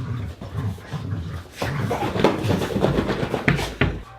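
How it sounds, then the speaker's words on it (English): Dogs scuffling and panting up close, with low growly play noises, thumps and paws moving around continuously. "my puppies decided it's fight time"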